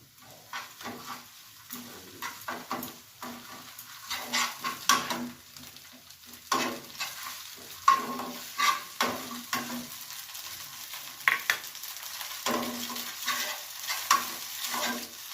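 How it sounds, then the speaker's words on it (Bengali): Onions frying in oil with a spoonful of ginger paste added, stirred with repeated scraping strokes over a steady low sizzle, close and moderately loud, no talking. "পেঁয়াজ ভাজতে ভাজতে আমি এখানে একটু 1 চামচ মতো আদা বাটা দিয়ে নিলাম"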